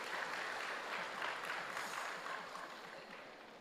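Faint, diffuse applause from a large crowd at a devotional discourse in Narayankhed, a soft continuous patter of many hands heard from a distance that slowly tapers off.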